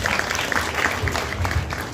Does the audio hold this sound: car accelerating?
no